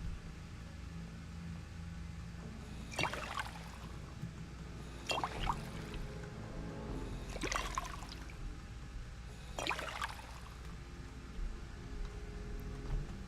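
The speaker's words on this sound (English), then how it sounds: "let's fill up these water bottles" Water bottles being filled at a water source in the game Fallout 4, heard as four short separate pouring splashes spaced a couple of seconds apart over a low steady background hum, with no speech.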